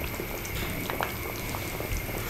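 A pot of fish curry simmers gently over low heat, giving a soft, steady bubbling with scattered small pops, moderately quiet and close, with no voices.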